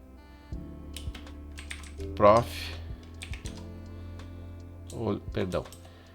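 A Mac keyboard clicks as a terminal command is typed: a run of close, crisp key taps with a few heavier strokes, while a voice speaks in the background at moments.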